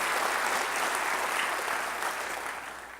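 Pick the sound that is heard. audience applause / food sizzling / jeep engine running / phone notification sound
audience applause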